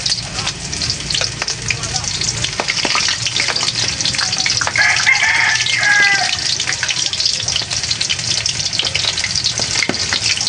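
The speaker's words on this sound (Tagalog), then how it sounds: "Kailangan po pagka nagpe-prito na rin talagang lubog sa mantika" Continuous loud sizzling and crackling of squid calamari deep frying submerged in hot oil, steady throughout, with no speech.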